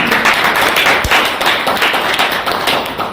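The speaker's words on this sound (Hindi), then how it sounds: "हमारे प्रांजल सर जी के सम्मान में जोरदार तालियां" Clapping from an audience at a seminar in Dabra, loud and close, a burst of hands with a sharp thump near the start, then fading slightly toward the end.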